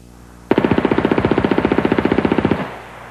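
A British Sten submachine gun with unlocked blowback fires one sustained automatic burst of about two seconds, a rapid, evenly spaced string of loud, sharp shots ending abruptly.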